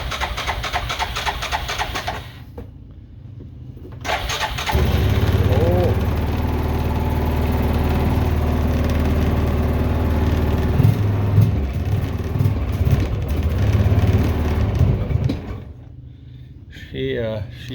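Yamaha Rhino 660 engine that is starving for fuel, cranking and then running at a steady, rough low rumble for over ten seconds before cutting out.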